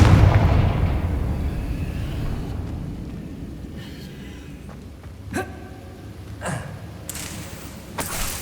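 A Confringo blast spell going off in Hogwarts Legacy, a loud roaring burst at the start that fades into a rumble, with a few sharp thuds and impact cracks following later.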